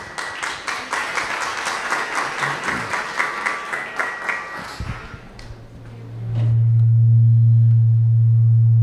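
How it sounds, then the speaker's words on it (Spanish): Audience claps in a steady, rhythmic unison beat to welcome a guest at a panel talk on Adolfo Pacheco's life and work. The clapping dies out after about five seconds, giving way to a loud, sustained low feedback hum. "un fuerte aplauso para él"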